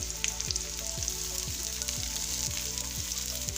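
Onion, curry leaves and green chillies sautéing in a pan, a steady bright sizzle with rhythmic stirring scrapes roughly every half second, close and continuous with no talk.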